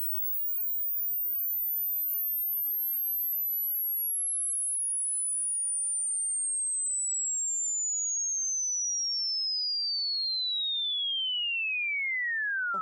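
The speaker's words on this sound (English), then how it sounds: "This is an aliasing test waveform that I have downloaded from the website AudioCheck." A pure sine-tone sweep from AudioCheck, played clean without any plugin, glides continuously downward from a piercing high whistle to a lower pitch over about twelve seconds, loud and steady, ending with a faint click.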